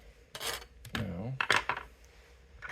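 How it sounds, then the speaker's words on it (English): Small screwdriver turning T8 screws on an Xbox One controller during disassembly, giving a few short close rasping, scraping bursts with light metallic clicks over about three seconds. "unscrew it. Screwdriver is a little small for my hands"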